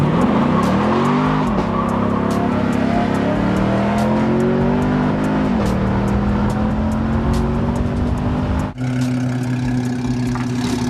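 A V6 Mustang and a 6th-gen Camaro racing from a dig start, engines roaring loud and close as they climb through the revs. One shifts partway through and the tone drops, then both keep pulling hard.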